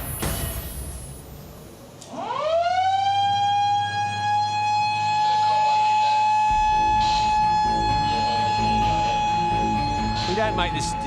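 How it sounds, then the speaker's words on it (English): Bondi Beach lifeguard shark alarm siren winding up from silence to a loud, steady wailing tone that holds for several seconds, with a few voices and beach noise beneath it. "put the siren on and get them out"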